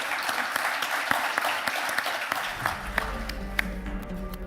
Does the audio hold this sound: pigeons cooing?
no